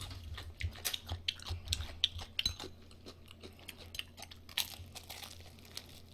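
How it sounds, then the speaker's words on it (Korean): Fried chicken and nachos are eaten close to the microphone in a quiet room, with crisp crunching bites and wet chewing repeated irregularly, plus faint crinkling. "이제 치킨하고 나초하고 이런 거 먹으면 됩니다"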